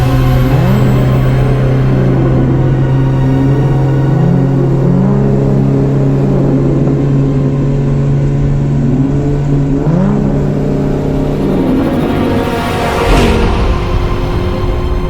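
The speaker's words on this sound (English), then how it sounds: "The Batmobile barreled out of the alley and zoomed off into the night." The Batmobile's engine in an audio drama effect hums with a deep steady drone, rising and falling in rev-like sweeps before a final whooshing surge as it zooms off into the night.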